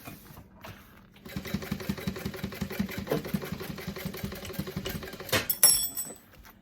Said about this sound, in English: Now I'm going to take this and top stitch it.